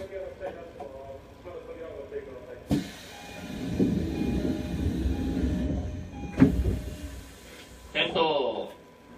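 A Toyo Rapid Railway train bound for Toyo-Katsutadai departs the station with a low rolling rumble, sharp door thuds and clunks, and voices speaking over the running noise.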